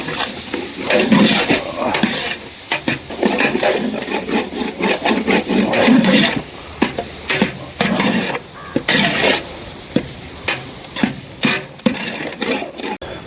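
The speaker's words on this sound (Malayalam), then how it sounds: "എല്ലാ മസാല ഒന്ന് തിളച്ച് വരുന്നുണ്ട്" Spices sizzle and crackle in a hot pan with steady scraping and stirring while making chicken sukka with coconut, then sharper intermittent clinks and scrapes of a spoon against metal.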